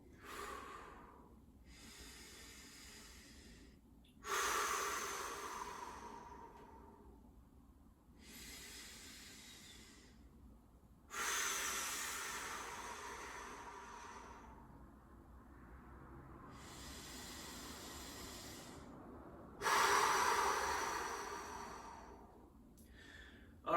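Slow, deep breaths during a yoga core session: five or six long, loud hissing inhales and exhales with quiet pauses between them, close to the microphone and with no talking.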